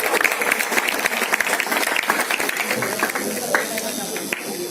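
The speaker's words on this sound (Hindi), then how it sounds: "आप लोग तो तालियां बजाओ।" An audience at a school exam awareness program gives steady applause, a dense wash of many hands clapping close by that gradually thins toward the end, with voices mixed in.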